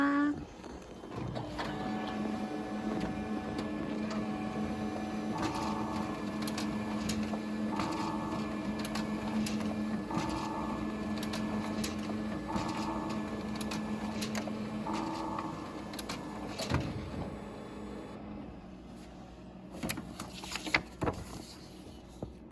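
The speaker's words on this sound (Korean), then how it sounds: "프린트 완료." A printer at Gangneung-Wonju National University's Wonju campus runs through a print job, with a steady mechanical whir and evenly spaced repeating pulses of the print passes, then a few clunks as it finishes.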